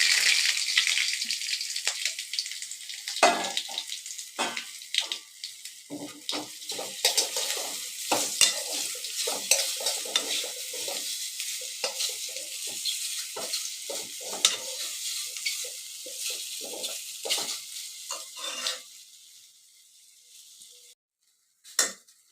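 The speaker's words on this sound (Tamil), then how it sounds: "எல்லாம் இப்போ நம்ம கிளறி விட்டாச்சு" Ragi flour sundal with green and dried red chillies being stirred in a pan, a steady run of close scraping and light clatter over a soft sizzle that stops near the end, with no one speaking.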